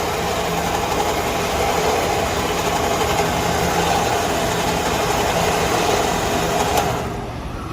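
Winch on a Toyota 4Runner reeling in cable, a loud, steady mechanical drone with a low motor hum running unbroken for about seven seconds, then easing slightly as the pull winds down.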